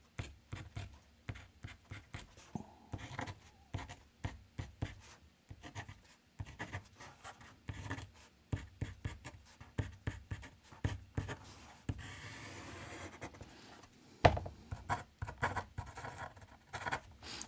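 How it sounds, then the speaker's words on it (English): A pen writing a name onto a drawing, close scratchy strokes in quick irregular bursts with short pauses between letters, alone without talk. "Shall I write down who it is? I'll just put his channel name."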